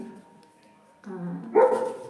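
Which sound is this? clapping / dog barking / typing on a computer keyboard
dog barking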